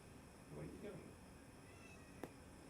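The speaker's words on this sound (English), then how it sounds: "I don't know if you guys hear the cat outside" A domestic cat meows outside a quiet room, giving a couple of faint, distant calls early on with a brief sharp click later. No speech is heard.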